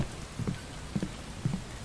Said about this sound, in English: Alright, now it's raining.